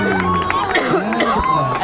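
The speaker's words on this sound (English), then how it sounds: "And this Mamaroneck crowd is finally to its feet." A high school football crowd at Mamaroneck, New York, rises cheering and shouting in a brief burst, excited voices and whoops overlapping close by.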